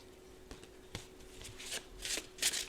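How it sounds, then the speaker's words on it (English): A handcrafted Thoth tarot deck being overhand shuffled, its cards slapping and rustling in a series of short, close strokes that grow slightly louder toward the end. "And it's pretty easy to overhand shuffle."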